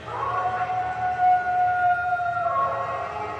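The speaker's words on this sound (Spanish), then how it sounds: "nos pareció oír el leve y lejano aullido de algún gigantesco sabueso." A gigantic hound howls far away, one long, faint, wavering wail that rises and slowly falls over a low murmur of background noise.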